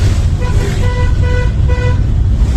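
Repeated car horn toots, several short honks in steady succession, over a constant low rumble of road traffic and engine noise.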